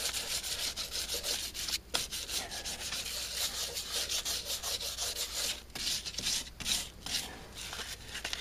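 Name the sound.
sanding filler on car rear quarter panel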